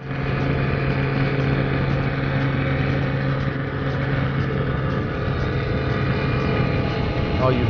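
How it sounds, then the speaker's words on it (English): Engines of a 32-foot Skater powerboat roar loudly and steadily at a powerboat racing event on the Emerald Coast, a dense continuous drone with no talk over it. "Oh, you've got to love the roar of those engines."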